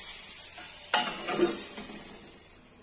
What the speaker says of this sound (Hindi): बस अब सबको कर लेना है फ्राई फ्राई कर करके इसको पका लेना है